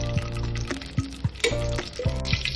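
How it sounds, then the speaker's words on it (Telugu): Green chillies dropped into hot oil in a pan, giving a steady close sizzle and frying hiss with light stirring scrapes and soft pan knocks at irregular intervals. "ఆయిల్ హీట్ అయ్యి అందులో పచ్చిమిర్చి వేసుకున్నామండి."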